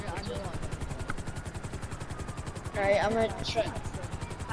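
A helicopter in the video game GTA 5 chops out its rapid, steady rotor thump throughout. Someone speaks briefly over it, and a short burst of other game noise breaks in near the end.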